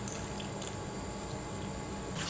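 Batter for a sweet tea-time snack sweetened with jaggery is stirred by hand, a soft continuous wet squishing and sloshing heard close up without talk.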